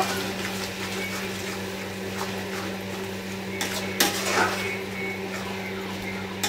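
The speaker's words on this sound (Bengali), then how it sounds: "এখন ভালো করে মিক্স করে নেব।" Salt and turmeric being stirred into meat in a pot, giving steady scraping and clinking of a utensil against metal over a constant low hum, with a couple of louder knocks near the end.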